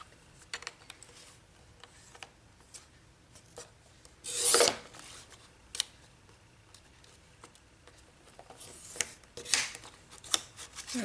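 Scissors cut through paper card in a quiet room, giving a few short scattered snips and rasps with one louder crisp cut partway through and small rustles between.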